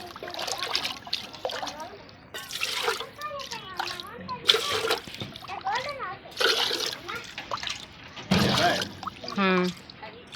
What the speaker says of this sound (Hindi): अभी इसमें और पानी डालना है